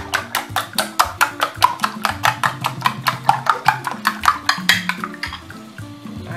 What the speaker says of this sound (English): And I'll beat my egg now.